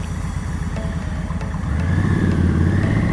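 A Triumph Tiger 850 Sport motorcycle on a Sunday group ride, its engine droning steadily close by, swelling louder midway as the revs rise, with traffic and other bikes around.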